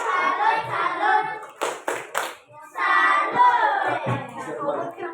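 Schoolchildren in an Indonesian-language lesson give a salute clap for a group: a few sharp, close claps in quick succession set between loud chanted voices.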